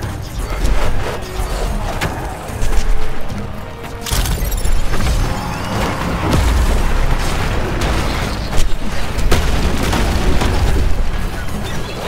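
Booming explosions and bursts rumble through a chaotic video game battle, loud and heavy, with a big blast near the middle, debris and mechanical clatter layered over a constant dense din.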